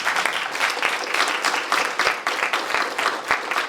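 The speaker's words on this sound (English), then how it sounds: "So we applaud them." A school board meeting audience applauds student advocates, loud close clapping with sharp individual claps standing out in a steady burst.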